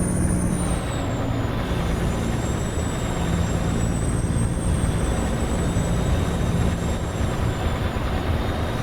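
A high, steady turbo whine rides over a dense, continuous truck engine roar in a trucking video game, with the whine bending slightly in pitch throughout.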